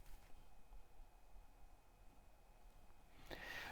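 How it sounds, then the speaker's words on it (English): Very quiet room tone recorded before a Deity V.Lav lavalier microphone test: faint, steady background hiss with no distinct events, ending with a brief soft rustle. "I'm going to give you first some room noise."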